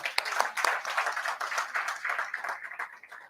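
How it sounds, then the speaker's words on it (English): A small audience at a tug christening ceremony at the Port of East London gives a round of applause, scattered individual hand claps building into a modest, fairly quiet patter. "I think it deserves a round of applause."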